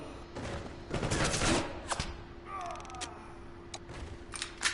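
Gunfire in the video game CounterSpy, a brief burst of rapid shots followed by scattered single cracks and mechanical game effects over a low steady hum, close and fairly loud.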